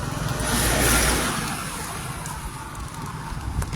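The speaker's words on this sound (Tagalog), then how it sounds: "Oops, may sasakyan." A car goes by on a road while soldiers stand nearby, loud at first as it draws close, then its engine rumble fades into steady road noise.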